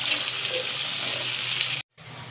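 Two onions browning in hot ghee for a chicken karahi, a steady close sizzle with a brief cut to silence before the frying resumes.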